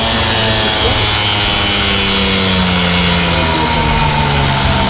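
Peugeot 103 moped engine fitted with a Polini 70 kit running on a dyno, a loud continuous buzzing two-stroke drone with gently shifting pitch, close and unbroken, with people talking over it.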